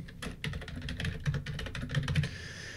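A password is typed on a computer keyboard while setting up an admin account on a Windows NT 4.0 server, giving a quick, close run of crisp key clicks with no talking.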